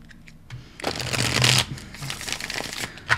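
Close riffle shuffling of a tarot deck during a reading, a soft lead-in followed by a couple of crisp, dense bursts of cards fluttering together, with a sharp tap at the end.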